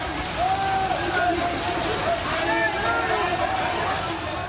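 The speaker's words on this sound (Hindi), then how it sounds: "भारी बारिश से पूरा शहर जलमग्न है।" Heavy monsoon rain pours down in a loud, constant hiss during flooding in Jaipur, India, while a voice speaks over it throughout.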